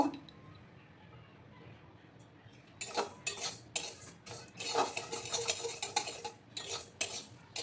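Moong dal dry roasting in a pan, quiet at first, then a run of clinking, scraping strokes of a spoon stirring the grains against the metal, close and fairly loud.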